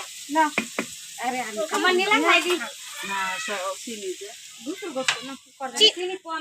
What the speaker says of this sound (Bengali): মাটির চুলায় রান্না মাছ এই যে এখানে ভাজি আর অনেক কিছু রান্না বান্না হচ্ছে